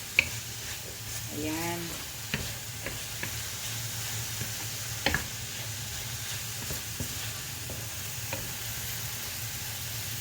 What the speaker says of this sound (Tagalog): Ngayon, haluin natin. Haluin natin ng kaunti.